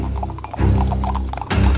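Restless horses pull a wagon with loud, steady hoof clip-clop, wheels rattling and creaking underneath, the hoof noise surging after a brief lull.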